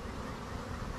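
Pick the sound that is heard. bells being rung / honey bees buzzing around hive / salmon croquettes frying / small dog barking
honey bees buzzing around hive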